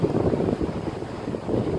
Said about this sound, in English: it's a storm, it's quite windy